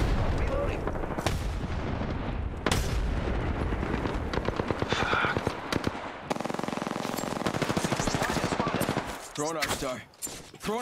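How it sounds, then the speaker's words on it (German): Repeated loud grenade explosions and gunfire in the battle royale shooter Apex Legends, dense booming blasts and rapid shots in close succession throughout, with brief voice chatter underneath. "Oh, jede Menge Granaten."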